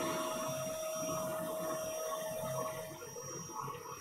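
A vacuum cleaner runs steadily while a PS2 Fat console (SCPH-30004R) is cleaned, a constant close motor whine and airy rush that dips slightly near the end.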